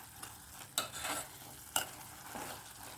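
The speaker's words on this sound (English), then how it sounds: "Let's add in our omenas or our DAGAA and give them a nice stir" Omena (dagaa) fish being stirred with tomatoes in a pan: quiet scraping strokes with a couple of sharper utensil clacks over a soft background sizzle, no voices.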